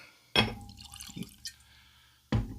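London Dry gin is poured into a glass, with a few close, quiet splashing and dripping sounds separated by short pauses.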